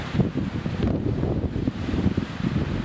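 Strong wind gusts buffeting across an exposed Jura mountain ridge, a rough low roar of rumbling noise against the microphone that swells and ebbs in short bursts, close and steady.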